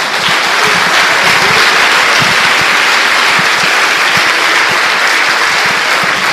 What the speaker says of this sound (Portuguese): Nós conseguimos dar uma salva de palmas a Jesus depois disso?